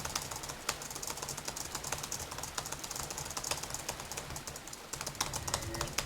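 A computer keyboard's spacebar is tapped rapidly again and again while jumping in Oblivion, a fast run of light, close clicks with a few brief pauses.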